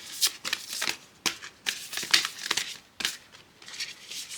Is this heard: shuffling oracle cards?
yes